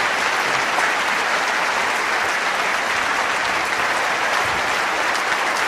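A large audience at the Something From Nothing discussion with Richard Dawkins and Lawrence Krauss applauds in a loud, continuous, even roar of clapping that fills the hall without pause.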